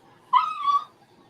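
A pet dog named Pablo lets out a single short, high whimper, close and alone in a quiet room.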